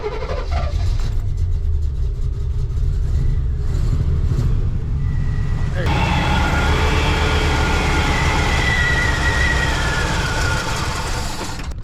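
A 1968 Oldsmobile Delmont 88 with a 455 big-block engine cranks on its starter, producing a loud, close mechanical rumble that grows harsher and busier about halfway through, with no speech.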